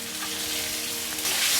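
Green peas fry in a wok with bay leaves, dried chillies and cumin seeds, giving a loud, continuous close sizzle that swells slightly toward the end.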